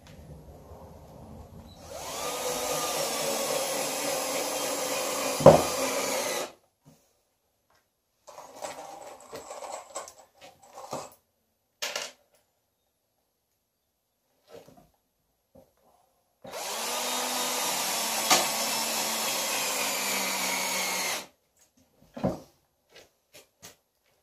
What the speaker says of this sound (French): ce qu'on peut faire, c'est tout simplement de pré-percer